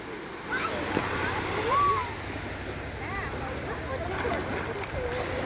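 At night on a beach, waves roll and splash steadily along the shore as a continuous surf wash, with voices talking over it.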